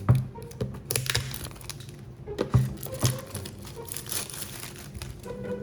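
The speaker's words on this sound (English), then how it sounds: "Let's go ahead by removing this plastic wrapping." Plastic wrapping crinkles and crackles as it is peeled off a Square-1 puzzle cube box, with close, irregular rustling bursts and sharp snaps throughout and no talking.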